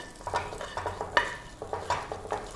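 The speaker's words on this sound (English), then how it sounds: "The butter is melting. Let's add the jeera and the bay leaf." Jeera and bay leaf sizzling in melted butter in a pan, with a soft continuous crackle and a few rhythmic stirring scrapes, fairly quiet and close, no voices.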